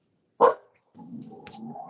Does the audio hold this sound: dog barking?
yes